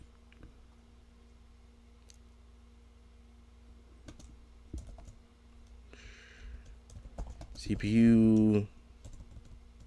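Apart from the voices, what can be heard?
typing on a computer keyboard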